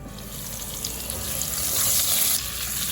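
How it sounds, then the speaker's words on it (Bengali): Potato pieces frying in oil in a covered pan, a close, steady crackling sizzle that keeps going without a break and swells slightly toward the end. "এই আলুর টুকরোগুলো আমি একটু ঢেকে ঢেকে ভালো করে ভেজে বা কষিয়ে নেব।"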